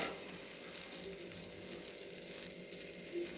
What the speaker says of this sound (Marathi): आता मी हा भाजून घेते या पराठ्याला दोन्ही बाजूने छान असं खरपूस भाजून घ्यायचं आहे